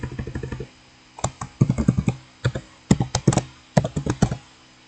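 Quick clusters of computer keyboard keystrokes, crisp and close, come in short bursts separated by brief pauses, the way someone types while editing a configuration file.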